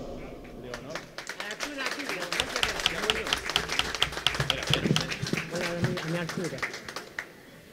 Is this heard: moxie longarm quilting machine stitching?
no